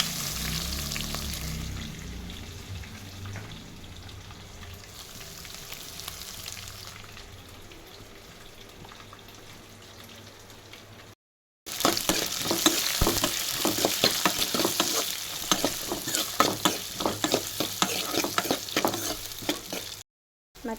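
Onion, curry leaves and green chilies fry in a pan with peanuts, giving a faint sizzle at first, then louder sizzling with clattering stirring after a brief gap.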